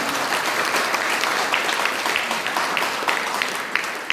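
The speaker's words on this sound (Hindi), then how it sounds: "एक बार उनके लिए जोरदार ताली।" Loud, steady clapping from an audience at a business seminar in India, a dense burst of hand claps honoring a guest, with no talking over it.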